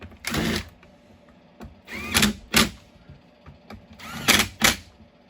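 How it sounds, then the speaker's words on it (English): Impact driver running bolts down into a Husqvarna 395 chainsaw during a rebuild, with three or four short, loud whirring bursts, each a fraction of a second long, separated by brief pauses. "now you can run them down with the impact."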